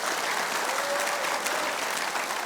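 Steady, dense applause from a television talk show audience, loud and continuous throughout with no pauses.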